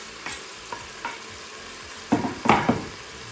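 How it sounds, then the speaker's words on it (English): Thinly sliced garlic and ginger frying in a pan are stirred with a few soft scrapes, then a louder burst of sizzling and clattering stirring toward the end, nearby with no talk. "Give that a good stir."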